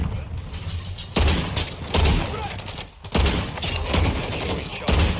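Shotgun blasts and combat sounds from the mobile video game Call of Duty: Warzone Mobile, loud booming shots at irregular intervals over dense game noise, with a voice talking throughout.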